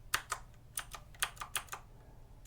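Keys clatter on a new computer keyboard, close up, as a handful of separate crisp clicks fall in an uneven rhythm of single presses, with no talk.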